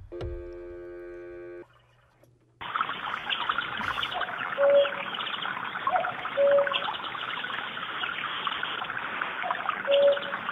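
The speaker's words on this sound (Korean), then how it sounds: "뻐꾸기만 울고 있다." An unanswered phone call with ringback tones, then a cuckoo calling repeatedly in the distance over a steady hiss of outdoor ambience, three or so spaced two-note calls.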